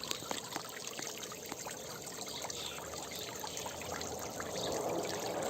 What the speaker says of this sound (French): Et puis une fontaine. La fontaine est reliée à des panneaux solaires.